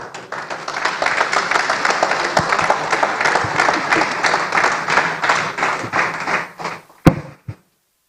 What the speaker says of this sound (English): Please, a round of applause once again for QS Jami Numbere